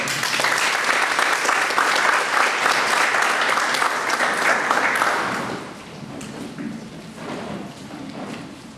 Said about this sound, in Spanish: Y para aquí pido un fuerte aplauso.